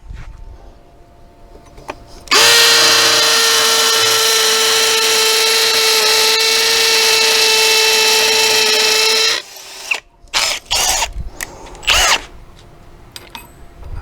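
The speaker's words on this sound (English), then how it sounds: "I'm going to drill my middle hole first." A power drill bores a hole in a wrought iron gate, a loud steady high-pitched whine running about seven seconds before stopping, followed by a few short clanks and bursts of handling noise.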